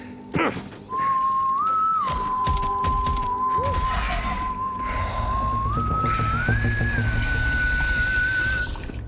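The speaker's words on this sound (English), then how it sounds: "Someone was whistling." Melodic whistling in the Borderlands 3 video game, a steady sustained tune that rises in pitch partway through, fairly close and clear, with scattered thumps and game ambience in the background and no talk.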